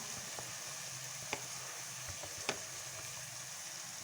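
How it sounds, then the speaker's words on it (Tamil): Grated coconut, a garlic clove and a dried red chilli frying in a pan, a faint soft sizzle with two brief utensil taps, quiet and close. "இப்போ தேங்காய், ஒரு பல் வெள்ளைப்பூடு, ஒரு வரமிளகாய் நல்லா வதங்கிட்டு இருக்கட்டும்."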